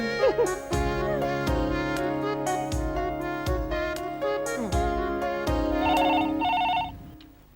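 A telephone rings during an outgoing call in a Hindi TV drama scene, giving a repeating melodic ring pattern with bright bell-like tones that carry on steadily before fading out at the end.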